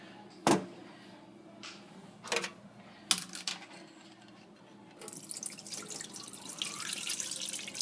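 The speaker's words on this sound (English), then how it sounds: "So I am going to dump this out and rinse it" Tea-dye water is dumped out of a container into a sink, and then Aida fabric is rinsed. A few sharp splashes and drips come first, followed by a steady wash of running water.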